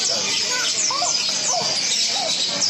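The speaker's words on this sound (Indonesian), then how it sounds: "Burungnya banyak sekali ya kandangnya ya." Caged zebra doves (perkutut) and other birds call at a busy bird market, with overlapping chirps and coos layered over a steady crowded hubbub.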